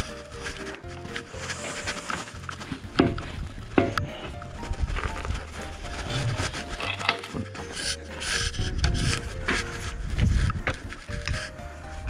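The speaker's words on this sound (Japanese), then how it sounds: "ちょっとドライバーを入れてちょっと固着をですね、こう一周取ります" A screwdriver works around a stuck hydraulic hose fitting on a Kubota RX303S mini excavator, producing close, irregular scraping, rubbing and clinking of metal on rubber and pipe.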